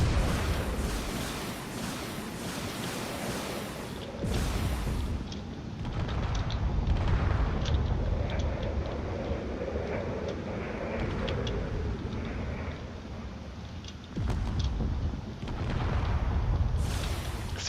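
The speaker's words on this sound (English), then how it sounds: "There's just an absurd amount of railgun coming towards this ship." Heavy weapons fire pounds a ship in a drone-combat video game: a dense, continuous roar of booms and blasts, loud and sustained, with brief dips before surging again.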